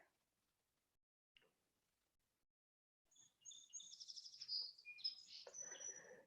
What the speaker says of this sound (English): Yeah, hear my birds again